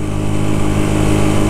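A Rieju Century 125 motorcycle with a Piaggio engine runs steadily at mid revs during break-in, a loud, continuous close engine drone with no talk over it.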